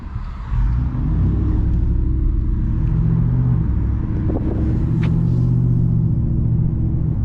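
Car fitted with a Borla ATAK exhaust giving a loud, steady deep rumble that holds for several seconds, heard from inside the cabin with some wind buffeting.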